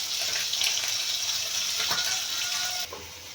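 Tengra fish fry in hot oil with a bright, continuous hiss that stays steady and close, then drops off abruptly near the end, leaving a quieter background.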